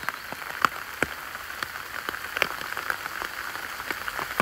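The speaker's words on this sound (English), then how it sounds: "which is quickly turning white as this hail continues to fall" Hail falls in a bluebell woodland, pattering steadily with irregular sharper taps and pings of stones striking leaves and ground nearby.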